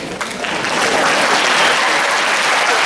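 A school district in-service audience applauds in a sustained, dense burst of clapping from a large crowd, loud and steady throughout.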